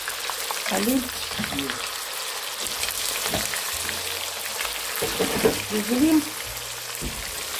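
Chicken thighs fry in a pan for plov with a steady, dense sizzle that runs throughout, while people talk over it nearby.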